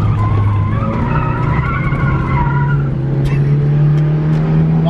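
A lightweight red car with poor brakes and very direct steering takes a left turn, its tires skidding and squealing loudly over a steady, close engine drone.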